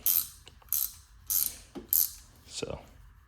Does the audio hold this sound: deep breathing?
no